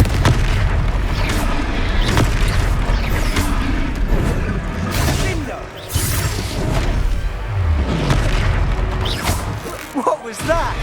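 Confringo spell explosion in the video game Hogwarts Legacy during a battle, with loud, continuous booming blasts and whooshes filling the scene as characters shout over the combat noise.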